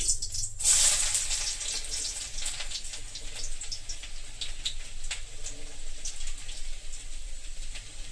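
Garlic frying in a spoonful of ghee in a pan gives off a steady, moderately close sizzle with soft crackles throughout, with a brief hissing burst near the start and no talk.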